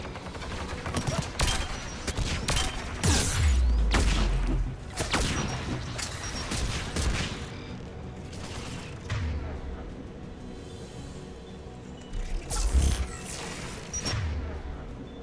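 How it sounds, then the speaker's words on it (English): Heavy anti-aircraft guns pound away in the sci-fi shooter Mass Effect 3, repeated booming shots and mechanical clatter mixed with other game effects, loud and close, with a voice speaking intermittently over the action. "There, anti-aircraft guns"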